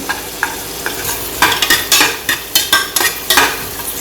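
Cashews frying in hot oil for a vegetable biryani, the sizzle rising in bursts at each stir as the nuts are moved about in the pan, with no one talking.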